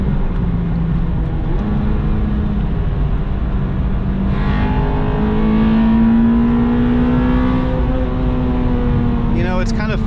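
Acura RSX Type S with a K20Z1 engine revving hard on a back road, the in-cabin note climbing steadily as VTEC engages around the middle, loud and continuous throughout.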